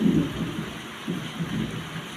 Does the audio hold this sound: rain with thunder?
yes